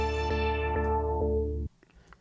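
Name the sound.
vinyl sample with DJ-style auto filter sweep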